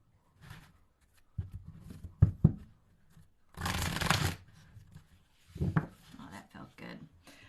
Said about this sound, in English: Just going to get a nice shuffle on it here.